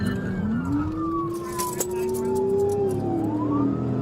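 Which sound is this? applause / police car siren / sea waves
police car siren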